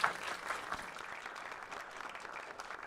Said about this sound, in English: Can we give Randy a round of applause?